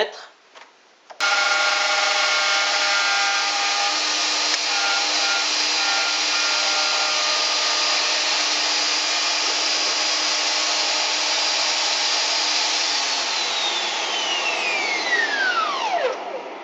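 A handheld wood router with an 18 mm bit and 24 mm guide bushing starts abruptly and whines loudly while cutting wood with dust extraction running, then winds down near the end.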